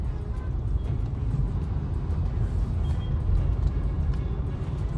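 A Tata truck rumbles along a road, its heavy low engine drone steady and close throughout, with a continuous wash of road and traffic noise around it.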